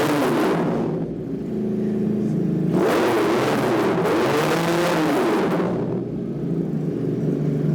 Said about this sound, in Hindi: अब इसे रेव करते हैं और देखते हैं साउंड कैसी है